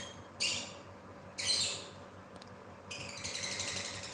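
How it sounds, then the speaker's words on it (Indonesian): Noisy bird squawking nearby, three harsh, shrill calls in short bursts with quiet gaps between, the last one longer and more sustained. "Tuh burung berisik amat ya."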